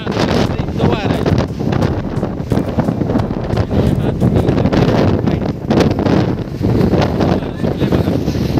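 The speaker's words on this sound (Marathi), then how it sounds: "सॉरी, खूप वारं सुटलेलं आहे इथे." Strong, gusty wind at the Matheran hill station viewpoint buffets the microphone in a steady, loud roar that barely lets up.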